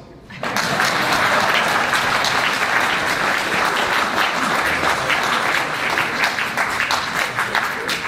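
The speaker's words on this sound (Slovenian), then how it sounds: "In prosim za aplavz." Sustained audience applause after a plea for pension redress at a Slovenian political address, a dense, steady wash of many hands starting abruptly and holding strong to the end.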